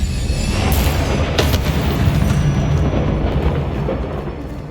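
A Confringo spell detonates in Hogwarts Legacy, a loud, close, deep booming blast with crackling bursts that rumbles on for several seconds.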